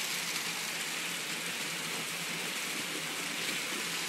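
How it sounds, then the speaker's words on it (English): Rain mixed with sleet falling steadily during a winter storm in Oklahoma, a dense, even hiss of precipitation that holds constant and fairly near throughout, with no voices. "Now it's turning to rain. A little rain and sleet together."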